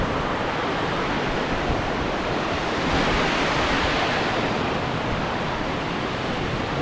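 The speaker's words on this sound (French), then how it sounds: "la petite cascade qui est sur le sentier" Small waterfall beside a hiking trail in Bosnia, a steady, close hiss of falling water that holds at an even level throughout, with no voices over it.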